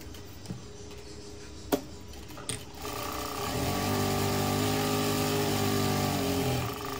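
A sewing machine runs a steady stitching drone, laying a double stitch on a boat-neck Punjabi dress, after a few scattered clicks and knocks at the start.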